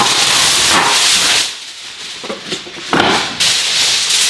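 Tinfoil being handled and crinkled over a brisket roast in a pan of beef broth, a loud, close rustling and scraping that comes in bursts with short pauses between them.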